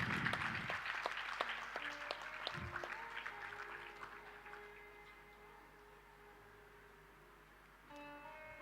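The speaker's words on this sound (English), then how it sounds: "Let us give a big round of applause for this momentous event." An audience at an international conference applauds, a dense wash of clapping that gradually thins and fades, leaving quiet room tone and scattered sounds near the end.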